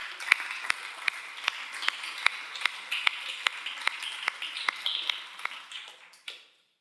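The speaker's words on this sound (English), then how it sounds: "Again, a big applause to Mark." Sparse clapping from a small audience after a business software presentation, individual claps spaced across a faint, light patter, fading out at the end.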